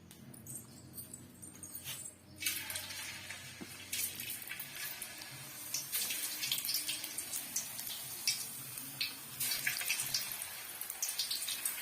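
Potato slices, soaked in salt water, hit hot oil over a high flame and sizzle steadily, a dense crackling hiss with sharper pops throughout, close and fairly quiet, without talk.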